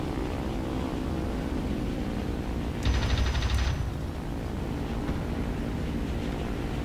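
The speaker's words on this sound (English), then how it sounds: "One burst there of 20mm and that truck was gone." A single short burst of 20mm cannon fire from an I-185 (M-82) fighter in War Thunder, a rapid stutter of shots lasting under a second over a continuous engine drone.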